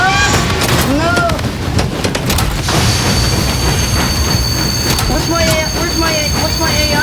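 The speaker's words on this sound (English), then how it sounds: "He's trying to put coal into the train." A train in the video game Party Animals rumbles along steadily, with squealing wheel tones and whistling pitch sweeps over the continuous rolling noise.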